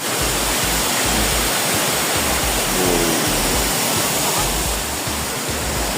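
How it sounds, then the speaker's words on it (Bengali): A steady, loud roar of rushing water from a mountain waterfall beside the road to Sittong near Kurseong and Darjeeling, a dense, unbroken hiss covering the whole scene. "রাস্তাতে আমরা পেয়ে গেলাম একটি পাহাড়ি ঝর্ণা"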